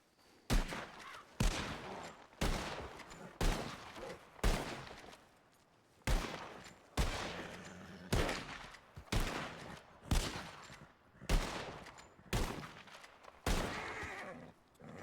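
Rapid single gunshots ring out in a game, with about fourteen sharp reports at a steady, slightly uneven pace across the clip. The shots are loud and close, and no voices are heard.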